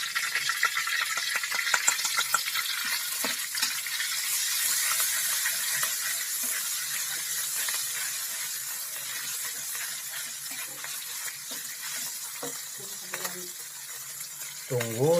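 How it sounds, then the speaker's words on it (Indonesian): A steady, close sizzle of ground spice paste frying in hot oil fills the whole stretch, with occasional scraping and light clinks of a utensil in the pan. "Sekarang kita mulai menggoreng bumbunya dulu."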